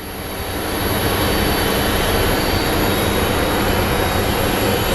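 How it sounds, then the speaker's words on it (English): An American Airlines Airbus A320 arriving from El Paso at Phoenix Sky Harbor gives a steady, dense jet rumble with a constant high whine, rising at first and then holding loud throughout, with no talk. "our first flight that will be arriving is an American Airlines A320 coming in from El Paso"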